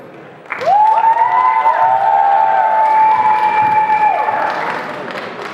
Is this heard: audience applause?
yes